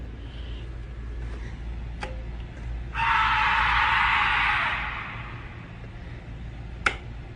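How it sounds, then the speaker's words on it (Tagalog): A very loud, harsh scream bursts out for about two seconds in a ghost encounter recording. A few sharp clicks come before and after it over a low background rumble. "Isang napakalakas na sigaw ang gumulat sa police officer at nagpatras sa kanya ng tuluyan."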